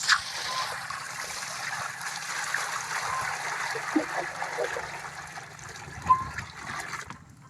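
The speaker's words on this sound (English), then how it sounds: "Once you cover, then we pour our water." Water from a 20-litre bucket is poured into a poultry footbath, giving a steady trickling stream with some splashing that lasts several seconds, close by and moderately quiet, with no voices.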